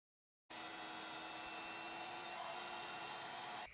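A heat tool blows a steady, close, loud rushing hiss while melting copper embossing powder onto a stamped paper panel, running continuously for a few seconds after an abrupt start.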